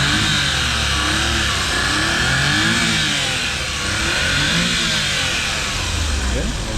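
A Smiley Wagon's 660cc turbocharged engine, rated 64 horsepower, runs steadily up close with a loud, continuous mid-pitched drone and gentle rises in revs, while a person talks over it.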